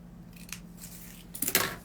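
Scissors cut through a piece of felt in a few short, close snips. The strokes are soft and quiet, with a crisper pair of snips near the end.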